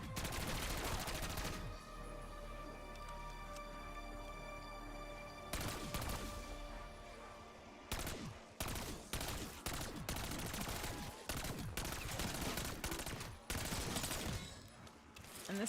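Rapid automatic gunfire in the video game Call of Duty Warzone, long sustained bursts followed by choppy short volleys of loud shots, dense and close with no talk over it.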